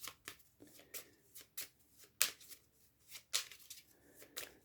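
Playing cards for the CloudAge board game shuffled by hand in a series of crisp riffling bursts, with several louder snaps, close and alone with no talk.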